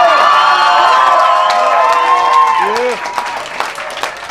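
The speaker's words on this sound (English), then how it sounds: "So you guys gotta clap real loud this time if you really want to win." At a poetry slam in a club, a crowd claps and cheers with shrill whoops and shouts, loud at first and then thinning out into scattered claps and calls.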